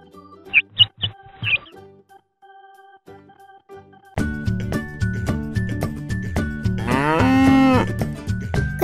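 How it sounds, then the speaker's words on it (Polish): A few short chirps, then a pause, then a cow moos loudly and long, a drawn-out bellow rising and falling close by. "Krowa."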